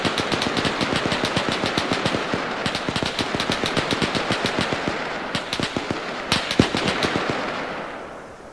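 Long machine gun bursts rip out in rapid, loud rhythmic fire with short pauses between strings, tracer rounds in an Arma 3 battle against German infantry and half-tracks.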